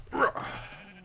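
A Minecraft sheep gives one short, close bleat in a game session, followed by faint low tones fading out.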